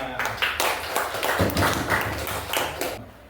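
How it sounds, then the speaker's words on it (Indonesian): Classroom of students clapping in loose bursts, several rounds of claps close by with voices mixed in, fading to quiet at the end. "Oke, tepuk tangannya"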